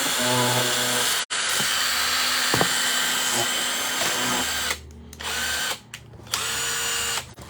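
A cordless drill machine with charger and battery whirs steadily at close range, one short cutout early on, then stops and restarts several times in quick bursts near the end.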